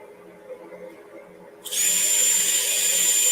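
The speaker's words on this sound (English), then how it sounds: "I'll go ahead and drill that pellet hole over sitting there." A pellet hole is being drilled with a hand drill: after quiet room tone, a high steady motor whine starts abruptly and holds loud and close to the end.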